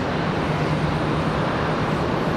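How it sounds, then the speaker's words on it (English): An Airbus A319 airliner at Charlotte Douglas airport gives a loud, steady broadband engine roar with a low hum, continuous and fairly close throughout. "Got an A319 headed this way."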